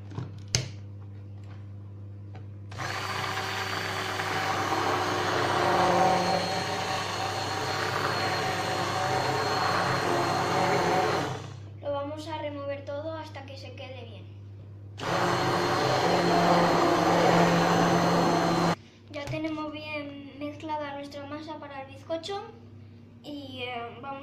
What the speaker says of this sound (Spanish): Y ahora vamos a conectar la batidora.